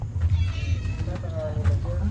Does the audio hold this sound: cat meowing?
yes